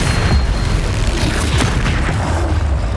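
Bombarda explosion spell cast in the video game Hogwarts Legacy, heavy rumbling booms and bursts layered densely and loudly across the whole stretch, with no talking.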